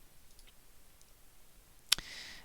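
A single sharp computer mouse click while opening a file in SolidWorks CAD software, close and crisp, followed by a faint airy hiss against near-silence.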